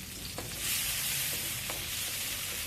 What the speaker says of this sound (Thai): แต่แล้วมาทอดนะครับ รากไฟชีกับต้มหอมนะครับ